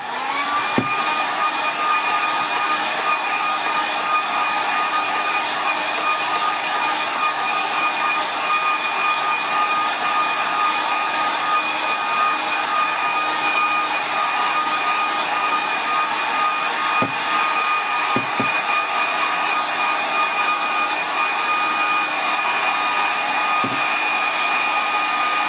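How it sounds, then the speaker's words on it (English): A hair dryer blows steadily and loudly for a long stretch to dry a watercolour painting, a constant close whirring hiss with a whine on top and a few faint taps beneath it, no voices. "A quick dry."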